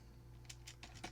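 A few faint, quick computer keyboard keystrokes tapped in a short irregular run over a low steady hum.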